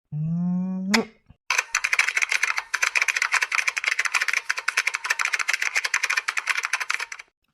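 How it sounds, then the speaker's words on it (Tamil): Rapid, close clattering of laptop keys being typed in quick bursts with short pauses, following a brief tonal sound at the start. "நான் டைப் பண்றேன்னு தெரியுதுல"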